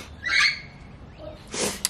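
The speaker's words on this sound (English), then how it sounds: "The loud birds. Yeah, there's one up here right now" Loud bird calls ring out nearby, a harsh squawking burst followed by a softer call and then another sharp, bright cry near the end, with no talking.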